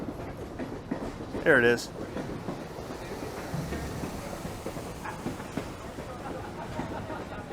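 A Reading and Northern 2013 locomotive rolls past on the Lehigh Gorge Scenic Railway, giving a steady rail rumble with a short, loud tonal burst early on. People talk over it.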